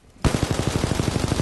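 After a brief quiet moment, a rapid burst of automatic gunfire rattles loudly and steadily in the video game Titanfall 2.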